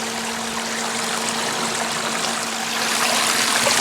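Water rushes through a highbanker sluice fed by a 2,000-gallon-an-hour pump, a steady loud hiss with a constant motor hum underneath, swelling slightly toward the end.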